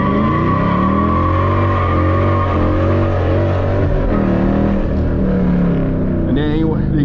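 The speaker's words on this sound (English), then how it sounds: "First gear burnout." Dodge Challenger with a six-speed manual doing a first-gear burnout, engine roaring loud and steady with a sustained rumbling drone across the whole stretch, pitch wavering as the revs shift, with voices talking over it.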